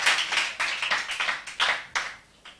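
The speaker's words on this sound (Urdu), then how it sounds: "ان کے لیے بھرپور تالیاں ہونی چاہیے تاکہ ان کی حوصلہ افزائی رہے" Audience applause at a Ramzan special quiz competition rewarding a correct answer: a steady run of crisp, fairly loud clapping with uneven bursts, no talk over it.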